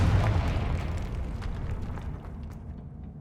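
Blast from the Confringo fire spell in the video game Hogwarts Legacy, a loud booming burst at the start that rolls off into a fading rumble with scattered crackles over about three seconds.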